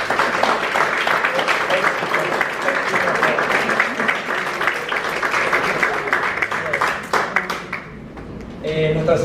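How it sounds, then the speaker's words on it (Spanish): A room of attendees at an annual conference gives sustained, steady applause that fades near the end, where a voice begins speaking. "Le agradecemos a Tulio con un aplauso"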